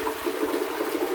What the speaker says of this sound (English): The toilets also have a tab system that flushes.